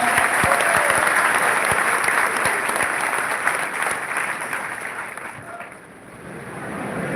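Loud, dense applause from a crowd welcoming a guest at a live motivational event in Suratgarh, sustained steadily throughout with a slight dip near the end.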